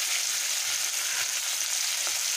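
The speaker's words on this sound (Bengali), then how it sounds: "পেঁয়াজটাকে ভেজে নেব" Onion and tomato sizzle steadily in a hot pan for a home-style Bengali prawn and vegetable curry, a dense, even frying hiss close up with no voices.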